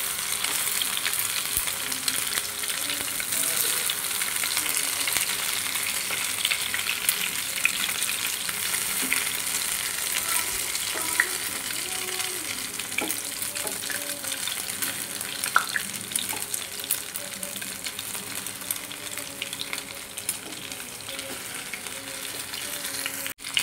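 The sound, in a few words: pointed gourd (potol) slices frying in a pan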